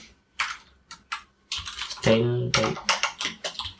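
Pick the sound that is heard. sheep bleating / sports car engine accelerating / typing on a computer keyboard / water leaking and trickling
typing on a computer keyboard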